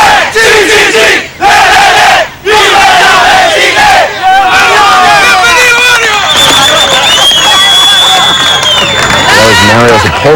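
A large crowd roars and chants at the rescue site as a trapped Chilean miner is brought to the surface, loud rhythmic cheering and shouting that builds into whistles and sustained celebration.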